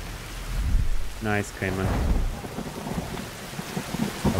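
Steady rain with low rumbling thunder fills a stormy scene in the video game Fountain of Youth, while a voice speaks briefly over it.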